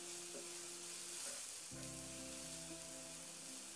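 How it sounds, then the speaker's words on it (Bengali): Chopped onion sizzles steadily in a pan with oil, stirred now and then, a close, quiet, continuous frying hiss with soft scrapes and no talk. "এবার পেঁয়াজটা দিয়ে কয়েক মিনিটের জন্য একটু নাড়াচাড়া করে পেঁয়াজটাকে হালকা লাল রঙের মতো একটু বাদামি রং ধরা পর্যন্ত পেঁয়াজটাকে একটু ভেজে নিতে হবে।"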